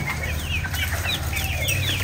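A flock of Serama chickens, a tiny bantam breed kept in mixed colours, clucks repeatedly in short overlapping calls nearby, with faint wing rustling over a low steady hum.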